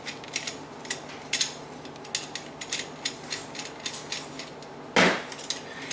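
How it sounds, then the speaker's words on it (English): Screwdriver loosening the three screws on an Insinkerator Evolution garbage disposal flange, a series of short metallic clicks and ratchety ticks in uneven rhythm, capped by one louder clank near the end. "the first thing you want to do is loosen the 3 screws"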